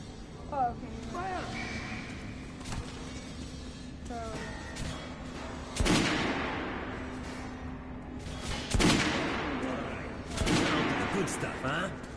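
Gunfire on a shooting range in Metro Last Light Redux, with sharp single shots and short bursts ringing out every few seconds over a steady game background hum, while a voice talks in between.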